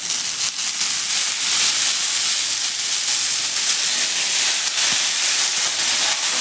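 Green cowpea pods roast in a little oil in a kadai over a gas flame, giving off a steady, dense hiss and sizzle that runs unbroken from start to finish, close and fairly loud, with no talking.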